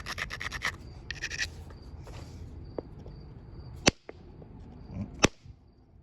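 A sandstone abrader grinds down the platform of a root beer chert piece to keep a horn punch dressed, with a burst of quick gritty strokes up close, then sparse scrapes and a couple of sharp clicks.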